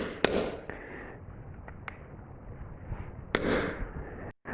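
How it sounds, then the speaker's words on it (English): A few sharp metallic taps ring out one at a time, spaced apart, with the loudest strike near the end, as a center punch is hammered to dimple metal before drilling. "go ahead and just take a punch and dimple it so that the drill bit itself isn't going to walk"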